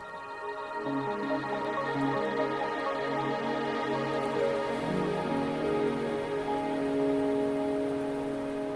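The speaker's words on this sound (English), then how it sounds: "Are you trapped here by the rain?" Steady rain pours over a scene in the video game Wuthering Waves, a dense continuous hiss with soft low tones underneath, holding evenly throughout with no talking.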